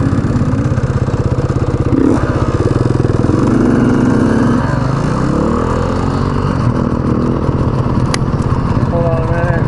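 A 2019 Beta 125 RR Race Edition two-stroke dirt bike runs with a loud, buzzy rattling engine note, revving up and down close by through the whole stretch, with a rider's voice talking over it.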